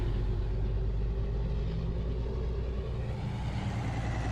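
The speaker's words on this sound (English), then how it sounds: "I hear your truck." A truck engine rumbles close by on a farm during harvest, a steady low drone with an even idle that holds without pause.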